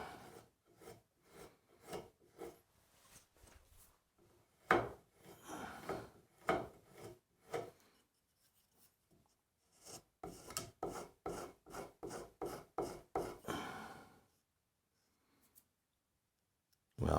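Rhythmic rasping strokes of abrasive grit filing a burr off the end of a carving tool ground from an old Allen key, in close bursts of steady scrapes with a short pause midway.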